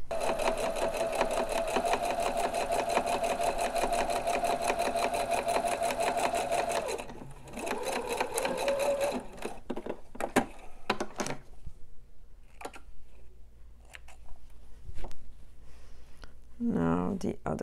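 A sewing machine runs fast and steadily for about seven seconds while stitching the string channel of a fabric mask, then stops. Clicks and handling noises follow, then a short final burst of stitching.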